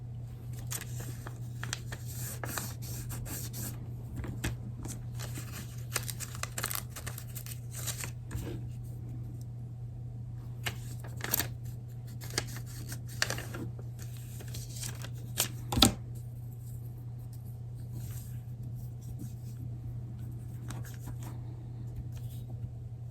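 Paper for foundation paper piecing being folded back along a seam line, soft crinkles and light rustles scattered over a steady low hum, with no talk.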